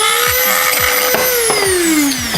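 A power drill bores out the bottom of a plastic glue stick, its motor whining loud and close as the pitch slowly sags under load, with repeated short grinding bursts as the bit bites.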